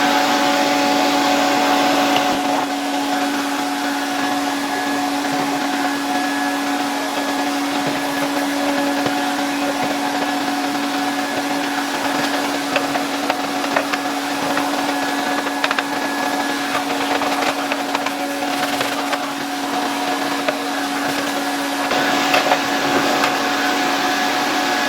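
An old Zelmer 100.8 vacuum cleaner runs steadily throughout, a loud, continuous motor whine and airflow roar with a constant tone, used for cleaning, with no speech.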